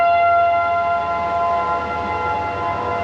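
An outdoor tornado warning siren sounds during a Saturday afternoon test, a loud steady multi-tone wail droning continuously without voices.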